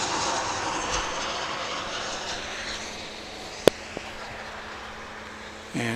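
An American Airlines Boeing 737-8 jet at DFW International Airport, a broad continuous engine roar heard from a distance, steady and moderately loud, with a couple of brief sharp clicks partway through and a low rumble returning near the end.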